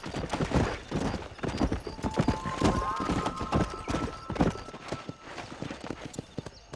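Horse hooves clip-clop rapidly across the ground in Red Dead Redemption, a quick galloping rhythm with a brief whinny, fairly quiet and steady throughout.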